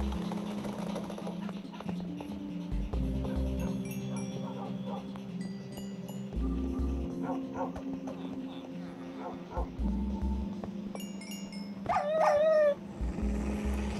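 Dogs bark, yip and whimper in a video game set in a mansion, several short barks scattered over a steady game soundtrack, with someone talking over much of it.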